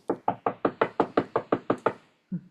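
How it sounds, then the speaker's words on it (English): A rapid run of about eleven firm knocks raps on a wooden door, close and evenly spaced, followed by a brief pause and one duller thud, in a stage production of Ibsen's The Master Builder. "Someone is knocking at the door."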